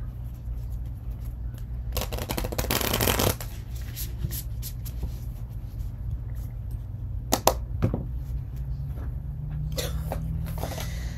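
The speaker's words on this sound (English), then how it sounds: "when I shuffle it" Tarot cards are shuffled by hand up close, with a dense riffling burst, then scattered soft snaps and a second flurry near the end, all over a low steady background hum.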